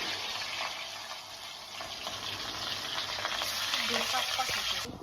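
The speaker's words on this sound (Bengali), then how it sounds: "ইলিশ মাছের মুড়ো লেজা ওগুলো ভাজছিস" Hilsa fish head and tail fry in hot oil with a soft, steady sizzling hiss and light spattering, fairly quiet and continuous throughout.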